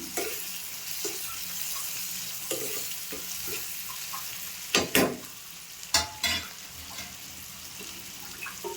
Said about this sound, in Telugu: చూసారా వేగిపోతున్నాయి.